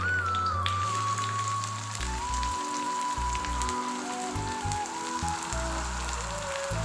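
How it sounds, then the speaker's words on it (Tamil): Onion and green chili sauté in oil with a little cumin, a soft continuous crackling sizzle like light rain running beneath steady musical tones. "இந்த வெங்காயம் பச்சை மிளகா சேர்த்து நல்லா வதக்கலாங்க"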